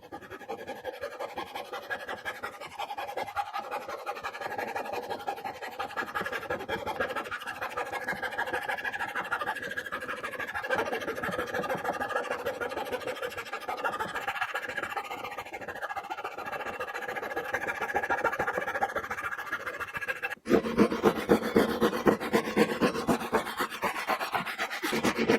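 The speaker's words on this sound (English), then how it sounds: "cut it with the coping saw." Hand sawing with a coping saw through wood for a chair's new seat and back support, a steady rasping stroke that runs continuously at close range and grows louder and sharper near the end.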